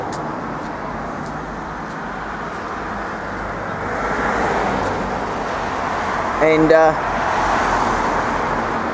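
Light road traffic on a quiet holiday street, cars passing now and then at moderate distance as a steady roadway hum, with a brief louder burst near the end and a voice speaking faintly at the start.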